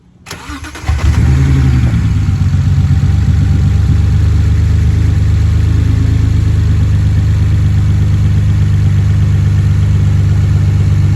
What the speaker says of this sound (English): So right now what we're gonna do is we're gonna start this thing up.